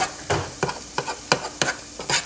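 Garlic dropped into a hot pan for a meatless alfredo, stirred in a few separate bursts of scraping and crackling sizzle, close and moderately loud with brief quiet gaps between.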